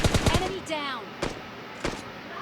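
Rapid bursts of automatic gunfire from a spray in PUBG Mobile Lite gameplay, a quick volley at the start followed by a few isolated later shots, heard alongside talking.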